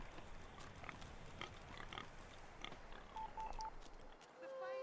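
A pig in Divinity Original Sin 2 gives short oinks and grunts amid game ambience, with chiming interface tones near the end.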